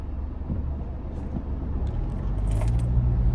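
A car passes on the road nearby as a low rumble that swells louder toward the end, with no talking over it.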